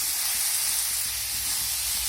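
Shredded cabbage sizzles and hisses steadily in a hot pan while being stirred, a continuous broadband frying hiss with no talking.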